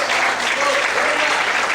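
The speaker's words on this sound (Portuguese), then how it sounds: "Você pode aplaudir e exaltar a Deus com força" A church congregation claps loudly and continuously during an evening worship service, a dense even roar of many hands filling the room.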